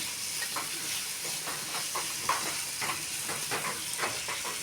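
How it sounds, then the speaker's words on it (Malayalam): Food frying in a pan over a low flame, with a steady soft sizzle and scattered light scraping stirs spread across the whole stretch. "നമുക്കൊന്ന് തുറന്ന് ഇളക്കി നോക്കാം. ഇളക്കി കൊടുക്കാം. ചെറു തീയിലിടണം"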